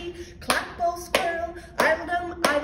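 Children and adults at a music session for toddlers clap hands along to a song, five sharp, evenly spaced claps under a sung melody that continues throughout.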